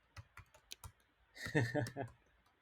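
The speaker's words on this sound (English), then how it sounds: "I haven't even finished typing out my code and he already submitted" Code being typed on a computer keyboard: a few sharp, separate key clicks close by, then a short stretch of someone speaking.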